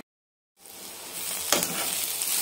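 Beetroot pieces hit a hot pan and begin frying, a sudden steady sizzle after a short silence, close and continuous, with a brief stir or clatter partway through.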